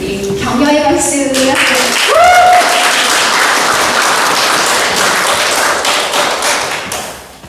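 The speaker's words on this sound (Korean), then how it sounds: "우리 격려의 박수." Audience applause at a Korean-language speech contest for students swells after a short announcement, loud and steady many-handed clapping that fades toward the end.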